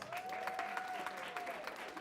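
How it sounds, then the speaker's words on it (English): Applause for a girls' basketball player at a high school national signing day, a moderate patter of clapping under a thin sustained tone and a faint voice. "Let's give her a round of applause"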